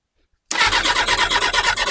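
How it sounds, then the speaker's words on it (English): Kawasaki ZX6R motorcycle engine with carburetors just cleaned, suddenly bursting into a loud, close, rough pulsing run after silence while trying to start on a first start attempt. "Ooh, a little bit of backfire."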